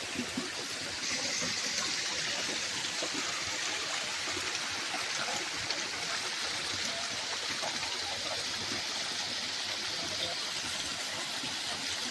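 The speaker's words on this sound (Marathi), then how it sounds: "फायनली आम्हाला वॉटरफॉल भेटलेला आहे." A waterfall rushes steadily in an outdoor nature setting, a continuous broad roar of falling water that holds even and fairly loud for the whole stretch, with no voices.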